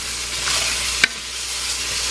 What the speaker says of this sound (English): So I'm going to stir that up a little bit because it's starting to stick.